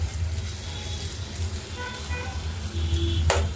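Onions frying in oil in a pan, a continuous close sizzle with light stirring and a sharp utensil tap near the end.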